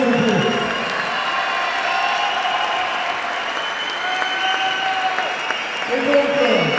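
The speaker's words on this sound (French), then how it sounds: "je vous donne vraiment victoire d'avoir les applaudissements de combat de Hugo et Santo" Sustained crowd applause for boxers at a handiboxe (disability boxing) fight, a steady dense wash of clapping with an announcer's voice and music-like tones running over it throughout.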